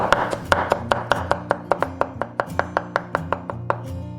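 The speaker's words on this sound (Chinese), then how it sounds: "大蒜拍碎，切成蒜末。" Garlic is smashed and chopped with a knife on a cutting board, giving a steady run of sharp, evenly spaced knocks, close and distinct, with no voices.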